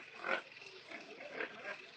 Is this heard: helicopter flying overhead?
no